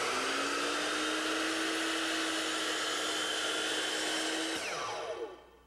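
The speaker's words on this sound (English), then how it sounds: "we're going to cut this miter with our miter saw by running it nice and gently down the side of our board" A miter saw runs steadily through a board cutting a 45-degree miter, a loud continuous whine that holds for several seconds, then winds down as the motor cuts off.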